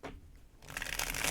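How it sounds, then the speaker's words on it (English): Tarot cards are shuffled in a soft riffling burst that builds into a brisk, crisp flutter of card edges near the end, close and alone. "One more shuffle."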